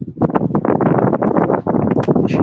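An electric fan sitting just below the microphone blows across it, producing gusty, rumbling wind buffeting that pulses unevenly and fills the whole stretch close and loud.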